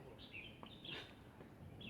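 Birds chirp and sing faintly in the background on an outdoor nature walk, with a few high thin calls over a low steady ambient hiss.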